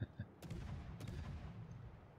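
Naval gunfire in World of Warships as a USS Clemson destroyer engages enemy ships: two sharp, booming shots about half a second apart, each with a rumbling tail over a steady low drone of engine and sea.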